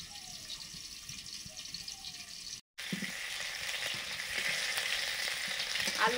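Potatoes for aloo dum frying in oil in a home kitchen, a steady close crackling sizzle that breaks off briefly partway through and then returns slightly louder, with no talking.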